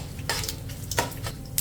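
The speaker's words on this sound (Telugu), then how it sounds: "ఇప్పుడు ఈ పోపు దినుసుల్ని మీడియం ఫ్లేమ్లో మంచి కలర్ వచ్చే వరకు ఫ్రై చేసుకోవాలి" Mustard seeds, dal and other tempering spices fry in a pan over a medium flame, with a soft sizzle beneath a few close scrapes and clinks of a metal spoon stirring against the pan.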